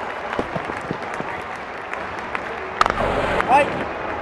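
Crowd cheering and applauding in the video game Real Cricket 19 during a Bangladesh vs Pakistan match, a steady wash of noise with a commentator talking over it.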